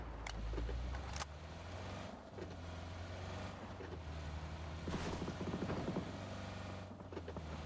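Car driving in PUBG on the Erangel map, a steady low engine hum with road rumble and a few sharp knocks and rattles, faint and continuous throughout.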